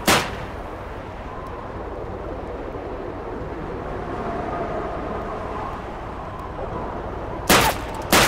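Rifle shots at targets in Call of Duty 2: a loud sharp crack at the very start, a steady low rumbling ambience in between, then two more close, loud shots near the end.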